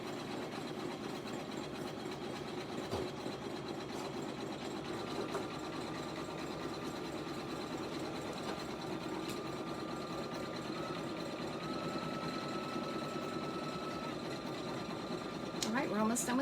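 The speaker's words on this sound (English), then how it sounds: "we're almost done with the bottom satin stitching" A home embroidery machine satin stitches an appliqué soccer ball bag tag with a steady, fast, even needle hum that runs unbroken throughout. A faint voice comes in under it at times.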